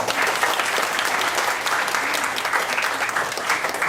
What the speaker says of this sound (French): Applaudissements quand même.